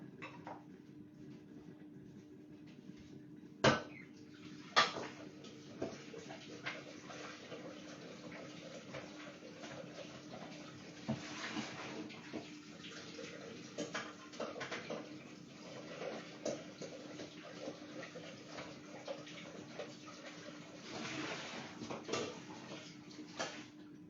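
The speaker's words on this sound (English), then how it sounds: "So I'm just going to quickly clean my bowl and I will be back." A Thermomix bowl is washed in a kitchen sink: soft running water and splashing throughout, with scattered clinks and a couple of sharp knocks of metal against the basin.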